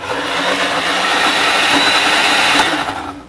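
A kitchen blender purees a sauce in a steady, loud whirring run of a few seconds that winds down at the end, with no talk.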